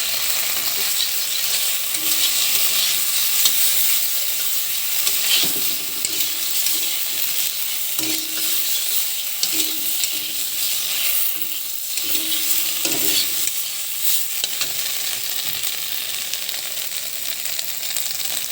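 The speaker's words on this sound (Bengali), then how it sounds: "এরপরে তাতে সামান্য জিরে বাটা দিয়ে ভালোভাবে নাড়াচাড়া করে নিতে হবে" Stirring and frying with cumin paste in a pan, a continuous sizzle with repeated scraping and clacking strokes of a spoon at an uneven rhythm, heard close up and alone for a long stretch.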